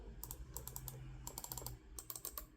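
Rapid plastic clicks of Kensington SlimBlade Pro trackball mouse buttons in short bursts, several quick taps at a time separated by brief pauses, close and crisp over a low steady hum.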